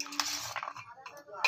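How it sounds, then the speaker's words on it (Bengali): A spoon clinks and scrapes in a bowl as a fried chickpea snack is tossed with chaat masala, a quick series of light metallic taps and rattles, close and fairly quiet. "এবার ভালো করে মিক্স করে নিচ্ছি।"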